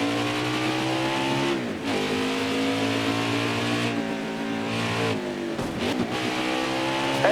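Race truck engines in NASCAR Heat 4 at Bristol rev loudly and continuously, with harmonic whine rising and falling through two throttle lifts and re-accelerations.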